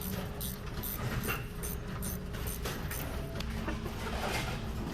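A bowling pinsetter machine running after a repair, its dense mechanical clatter, whir and rhythmic clanking filling the space loudly and steadily throughout, with no talk.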